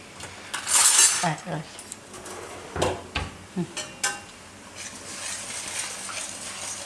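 A metal spoon scrapes and clinks against a pan in short bursts while stirring garlic mango chutney, with pauses between, close to the listener.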